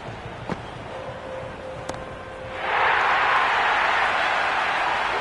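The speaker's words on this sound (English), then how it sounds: "Listen to that crowd. They are loving this." A stadium crowd in the Cricket 26 video game on PS5, during an India versus Pakistan T20 World Cup match, swells suddenly into a loud, sustained roar of cheering after a quieter opening with a few faint clicks and tones.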